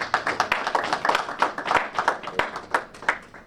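An audience at a Black History Month gathering claps for a man being introduced, a moderate stretch of uneven, scattered hand claps heard at a fair distance.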